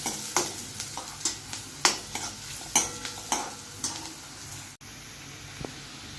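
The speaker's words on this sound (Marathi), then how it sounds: "कांदा चांगला 1-2 मिनटं परतला ना की आपण टोमॅटो टाकू" Onions sautéing in a pan for a dried-prawn masala: continuous crackling sizzle with a regular series of sharp scraping stirs against the pan, close and clear, one abrupt click near the end, no talking.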